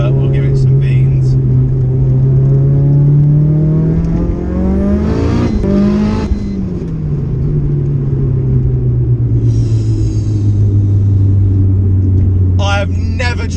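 A 600bhp Mitsubishi Evo 6 heard from inside as it accelerates hard, engine droning and rising in pitch through the gears with a brief shift dip, loud and continuous, turbo hiss and whooshes on top.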